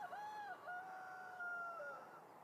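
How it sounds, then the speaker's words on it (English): A chicken calls out in a shaded garden planted with ostrich fern and hydrangeas, giving long, drawn-out, rising and falling crow-like cries that sound close and clear, with no talking over them. "The chicken is excited today because we're back near his garden."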